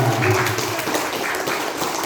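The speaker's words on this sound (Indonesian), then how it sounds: "tepuk tangan sekali lagi untuk kelas 9" A crowd at a school project showcase claps for class 9, a brief burst of applause with some voices mixed in.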